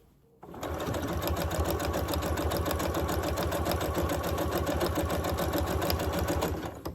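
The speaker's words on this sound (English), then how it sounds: "The standard zigzag stitch set up by my machine with me not changing anything looks like this" Sewing machine stitching a standard zigzag on scrap fabric, a loud, steady, rapid mechanical chatter that starts after a brief pause and runs evenly to the end.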